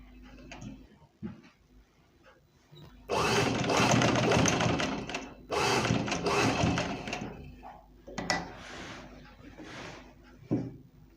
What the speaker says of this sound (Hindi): यहाँ पे सिलाई लगा देनी है